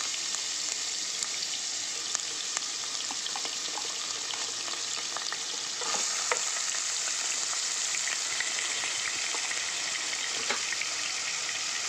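Cloves, cardamom, green chillies and leftover onion paste sizzle steadily in hot oil for a fish curry, a continuous bright crackling fry that grows a little louder partway through, with occasional sharper pops and no voices.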